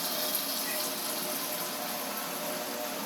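Salted water poured into a container for soaking mangoes for Indian pickle, a steady close rushing splash running unbroken for a few seconds.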